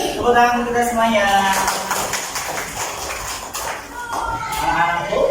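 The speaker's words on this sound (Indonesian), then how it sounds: "Oke, tepuk tangan kita semuanya" Third-grade elementary schoolchildren in a classroom clap their hands together, a rhythmic patter of many small claps under a speaking voice and children's chatter.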